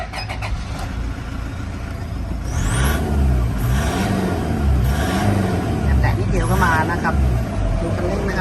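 A Japanese-spec Toyota Hiace 3.0 diesel engine running after its DPF and EGR systems were disabled, a steady close rumble with a slight rise in revs midway and someone talking over it.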